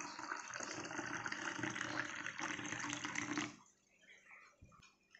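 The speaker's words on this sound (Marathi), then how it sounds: "आपण यामध्ये थोडं थोडं पाणी घालून घेणार आहोत" Water is poured steadily into a bowl of spicy chilli, coriander, mint, garlic and ginger water for pani puri, making a close, continuous gush for a few seconds before it stops abruptly.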